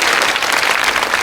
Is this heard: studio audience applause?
yes